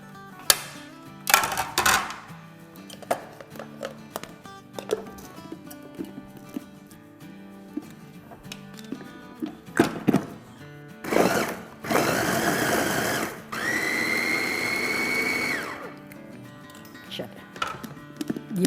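Green chillies chopped on a board for samosa filling, irregular clusters of sharp knife taps with pauses, close and crisp, followed by longer scraping or rustling sweeps; no talk heard.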